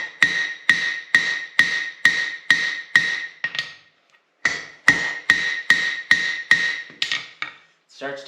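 A hammer strikes a hot tire iron on the rounded horn of an anvil, a steady run of sharp ringing blows, a brief pause, then another even series of clanging hits, close and loud.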